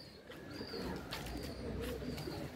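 Pigeons cooing close by, soft repeated throaty coos overlapping in a steady murmur, with light chirps and outdoor rustle in the background.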